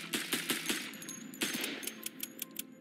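Rapid bursts of rifle fire in a video game, several quick volleys of sharp shots in the first second and a half, then scattered lighter pops and clicks trailing off.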